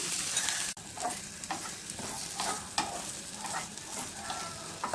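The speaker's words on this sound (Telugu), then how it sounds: "ఇదే ప్యాన్లో 1 టీ స్పూన్ ఆయిల్ వేసుకొని ఉడికించి పెట్టుకున్నటువంటి ఉసిరికాయ ముక్కలను వేసుకొని లైట్గా ఫ్రై చేసుకుందాం" Boiled amla (Indian gooseberry) pieces frying lightly in a teaspoon of oil in a pan for chutney, giving a soft, continuous sizzle with repeated stirring scrapes and one sharp knock near the start.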